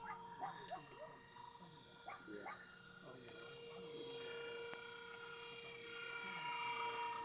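Small vintage brushed electric ducted fan model with a tail rotor, running at about half throttle: a steady high-pitched electric whine that holds and slightly builds in loudness, with faint voices and other noise early on.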